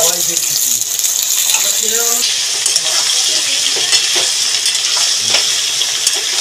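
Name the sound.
boiled jackfruit stirred and frying in hot oil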